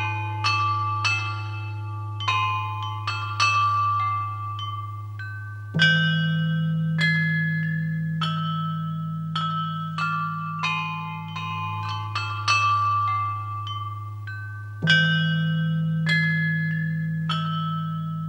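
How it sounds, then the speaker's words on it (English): A Qing dynasty set of Lingbi rock stone chimes, hung in two rows on a bronze frame, is struck in a slow melodic sequence. Clear, bell-like tones ring and decay over a low sustained drone, with no voices. "a magnificent set of Qing stone chimes"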